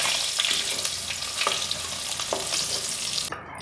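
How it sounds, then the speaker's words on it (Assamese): Okra fries in oil in a pan, giving a loud continuous sizzle broken by scraping stir strokes, and the sound cuts off sharply just before the end. "ভেন্দি ভজা তেলখিনিতে মই আধা চামুচ জিৰা দিছোঁ, পিঁয়াজ দিছোঁ"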